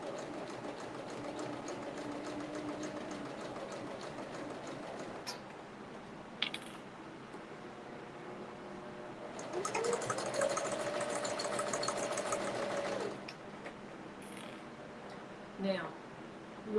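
A home sewing machine stitches a child's fabric purse in short bursts, a close rapid mechanical whirr that runs loudest for a few seconds in the middle, with someone talking around it.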